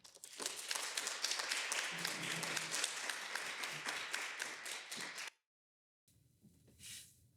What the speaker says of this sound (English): please extend a round of applause